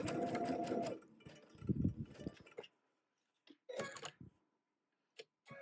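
A sewing machine stitches a quilt section in a steady mechanical whir for a few seconds, then stops, followed by short bursts of stitching separated by silent pauses.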